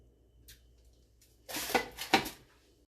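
A baking sheet of Moroccan lamb burgers slides into an oven, giving two quick metallic clatters of tray and rack close by, with a faint knock just before.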